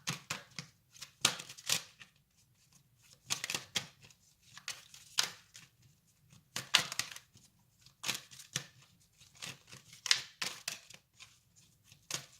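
Tarot cards being shuffled by hand, a run of crisp riffling bursts repeating in an uneven rhythm, close and fairly quiet, with no voices.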